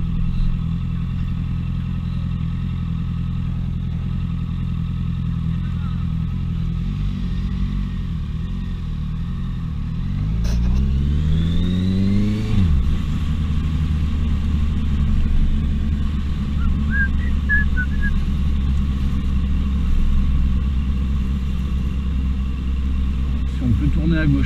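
Paris city traffic with many cars, heard from a moving Honda CBR 650F motorcycle, whose steady engine drone runs throughout with a rising and falling rev sweep partway through and road noise beneath a voice talking.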